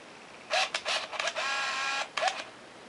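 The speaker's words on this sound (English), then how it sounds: "it will begin to flash, and then shortly thereafter the shutter will go off" An Olympus Infinity Stylus Epic compact film camera whirs and clicks as its self-timer shutter fires, several short mechanical bursts followed by a longer motorized film-advance whine, close and clear.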